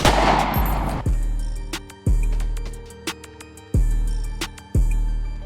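Gunfire in GTA 5 rings out as about five loud, sharp shots at irregular intervals, each followed by a short ringing decay.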